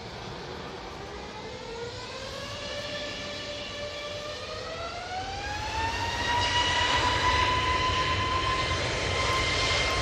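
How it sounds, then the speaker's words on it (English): An EasyJet Airbus A321neo departing Manchester Airport for Antalya, its engine whine rising steadily in pitch and growing louder over ten seconds, a smooth tonal jet roar with no talking. "EasyJet A321neo."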